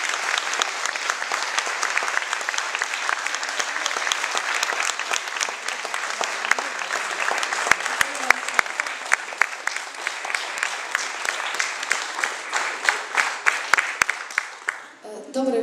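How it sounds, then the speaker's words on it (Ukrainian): A packed hall at an evening event in Ternopil gives sustained applause as a guest walks onto the stage, a dense wash of clapping with scattered sharper claps that fades out at the very end. "І зараз під ваші оплески запрошуємо її на сцену."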